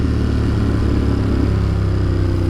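A motorcycle engine runs steadily and close while riding around Brooklyn, New York City, a continuous throbbing drone at an even, moderately loud level with no speech.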